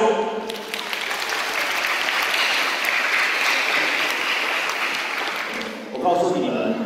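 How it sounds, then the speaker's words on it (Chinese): A school auditorium crowd applauds to welcome a guest, the executive director of a new-life education center, at an elementary-school anti-drug talk; broad clapping holds steady for about six seconds, swelling again near the end. "我们掌声欢迎"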